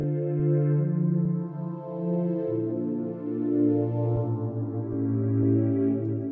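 An Omnisphere synth pad plays a slow chord progression in a beat, with sustained, smooth tones changing chord every second or so and soft clicks marking the changes, clean and alone with no talk.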